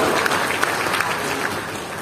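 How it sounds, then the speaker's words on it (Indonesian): A church congregation applauds during a pastor's sermon, with dense, loud clapping sustained evenly throughout and a few sharper claps standing out. "Tepuk tangan yang paling meriah buat"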